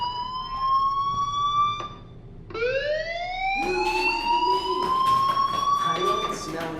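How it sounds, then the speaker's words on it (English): In the video game Life Is Strange, a fire alarm rings with sustained rising electronic tones that cut out and restart, with a voice speaking faintly underneath. "do you hear that fire alarm?"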